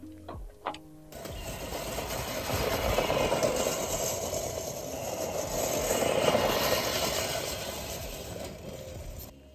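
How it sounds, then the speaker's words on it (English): A lawn mower cuts a home-built putting green outdoors, a steady close mechanical whir that starts after a few brief knocks and holds loud and even to the end. "why not celebrate and mow the lawn while we're outside"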